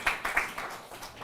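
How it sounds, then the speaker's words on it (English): Audience applause at a workshop, with a few distinct claps leading into lighter, scattered clapping from a small gathering, moderately close and fading slightly. "A round of applause for Honorable Francine."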